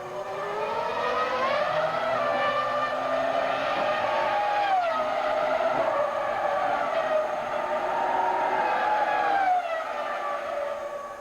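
Formula 1 cars at the Malaysian Grand Prix scream past with a loud, steady high-revving engine whine, pitch rising and falling through gear changes and passes for the whole stretch, with no talk.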